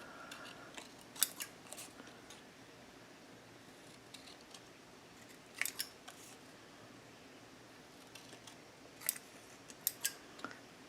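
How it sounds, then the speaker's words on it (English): Crisp, sharp slicing clicks of a paper cutter cutting through patterned paper in a quiet room. A few separate cuts arrive in short clusters, with near-silence between them. "I'm going to put mine on the paper cutter so I keep that straight."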